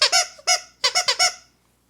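A squeaky alligator-shaped dog toy gives seven loud, close squeaks in quick uneven bursts, one, then one, then a fast run of four, before falling silent.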